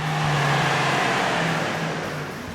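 A Chevy Blazer parts hauler powered by a repurposed LS engine drives along pavement, a steady close engine drone with a slight falling tone as it moves off.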